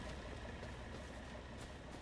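A tractor engine in Farming Simulator 25 idles steadily for the whole stretch, a low, even rumble with no voices over it.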